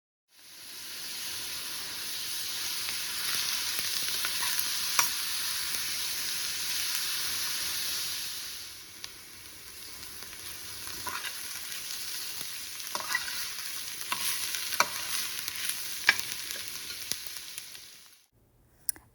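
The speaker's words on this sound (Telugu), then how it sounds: "రెండు కలిపి వేయించుకోవాలి" Chopped onions and green chillies fry in hot oil for an egg curry, a loud, steady, close sizzle with a hiss that eases partway through, broken by occasional scrapes and taps of a stirring spoon.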